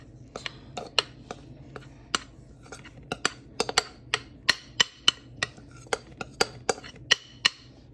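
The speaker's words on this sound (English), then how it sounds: "We're just scraping the chocolate into the bowl." A spoon taps and scrapes against a bowl while chocolate for a chocolate pie is scraped in, a quick series of sharp clicks and knocks, close and clear with no talk.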